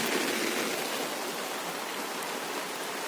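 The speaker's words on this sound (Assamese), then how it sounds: "বৰষুণ দিছে নাই?" Steady rain falls outdoors, a soft, even wash of patter that continues without break for the whole stretch, moderately quiet and with no voices over it.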